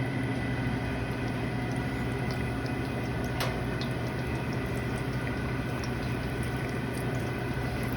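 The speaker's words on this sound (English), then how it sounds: "So I can start to hear the oil sizzling." Floured eggplant slices fry in hot oil, giving a dense, steady sizzle and crackle that stays constant and fairly close throughout with no voices.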